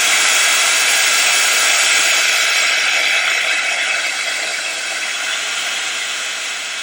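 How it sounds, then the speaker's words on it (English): A heat tool blasts hot air steadily at close range, a loud, even hiss that eases off slightly toward the end, with no voices. "I'm going to give another blast with the heat tool"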